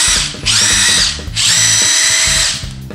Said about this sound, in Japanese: もう1つがですね、こちらですね、ボッシュのインパクトレンチ 18V なんですけれど